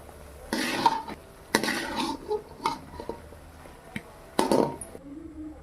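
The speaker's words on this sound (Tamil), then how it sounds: "சுண்டைக்காய் நல்லா வதங்கும் போது தண்ணி கொஞ்சம் வரும்" Turkey berries sautéing in a pan, quiet frying sizzle underneath a few distinct bursts of stirring and clinks of a spoon against the pan, close and fairly soft.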